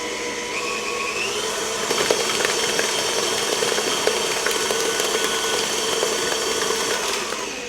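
Electric mixer beating a powdered sugar mixture for a cake, a continuous motor whir with scraping, rattling ticks against the bowl, steady and fairly close throughout.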